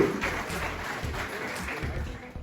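Applause from an audience at a Republic Day celebration held at a court in Rajnandgaon, a steady broadband patter of clapping that continues evenly for about two seconds.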